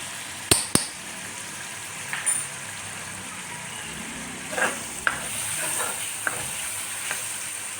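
Meat, potatoes, red chilli and a little turmeric fry and get stirred in a pot for degi aloo gosht, heard as a low sizzle broken by sharp scrapes and knocks of a spoon against the pot, close, with no talking.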